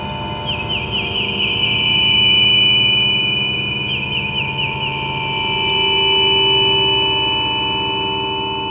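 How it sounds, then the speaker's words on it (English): A steady resonant drone from the Myon reverb plugin hums with sustained tones, swelling and receding slowly, with faint chirping overtones flickering at the top. "you can experiment by using whatever input sounds you want to see which resonances and drones you can create"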